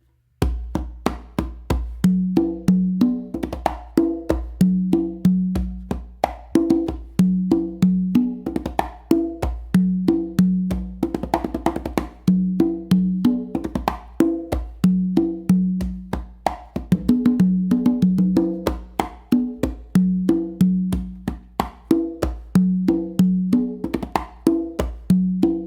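Bolero rhythm played on a set of two and three congas, steady repeating pattern of open tones and slaps, close and loud, with no talking.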